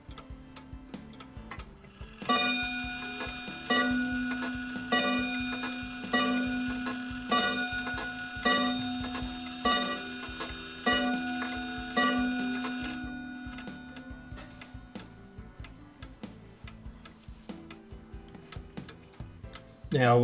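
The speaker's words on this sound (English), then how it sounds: "Now we'll hear it strike." A Japanese 40-day wall clock strikes a long run of evenly spaced, ringing metallic chimes from its hammers, each decaying into a sustained resonant tone, followed by steady ticking once the strike ends.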